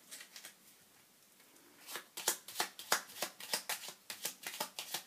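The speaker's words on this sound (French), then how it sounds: "elles sautent les cartes chez vous." A deck of tarot-style cards is shuffled by hand for a reading, first in soft riffles, then in a rapid run of sharp, crisp flutters repeating roughly every quarter second, close and alone without talk.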